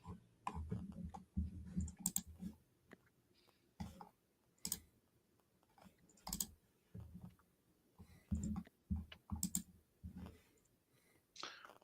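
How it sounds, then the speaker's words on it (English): Computer mice click sporadically at close range in a quiet room, sharp isolated taps and short clusters spread irregularly, faint overall with soft murmuring in places. "all you hear is people's mice clicking"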